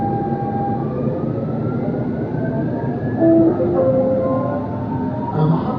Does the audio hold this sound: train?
yes